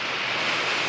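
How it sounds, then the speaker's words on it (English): Air hissing out of a digital tire gauge's clamp on a tire valve as a steady, close, broadband leak that lasts about a second. "it's leaking air right now just by me manipulating it"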